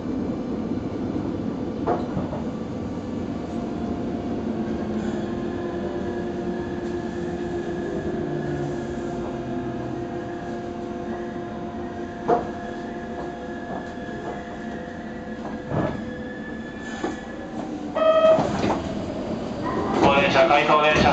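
Kobe Municipal Subway train pulling into Myodani Station on the depot track, a steady low rumble of the car with occasional clanks and brief squeals near the end, heard from inside.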